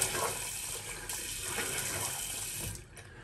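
Water running into shaving soap, a close, steady splashing rush like a tap filling a basin that continues throughout and eases slightly at the end.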